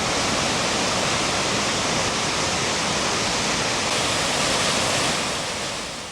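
Rushing water of the North Fork of the Blackfoot River in the Scapegoat Wilderness, a loud, steady broadband roar that continues unbroken and fades slightly at the end.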